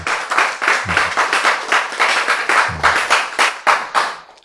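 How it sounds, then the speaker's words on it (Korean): A church congregation claps together in a steady rhythmic beat, loud and full, each clap crisp and evenly spaced for several seconds with no talking over it. "이 박수 속에서"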